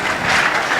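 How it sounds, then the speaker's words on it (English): Delegates at a church bishops' plenary gathering are applauded by the audience, a brief dense wash of clapping from a crowd in a hall. "Let us clap for them, let them clap for themselves."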